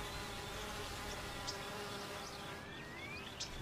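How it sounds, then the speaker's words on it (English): Honeybees at a hive entrance, guard workers among them, make a continuous soft droning hum with a few passing buzzes of individual bees flying close, faint and steady throughout. "Worker bees stand guard at the entrance of the hive, keeping out bees from other hives."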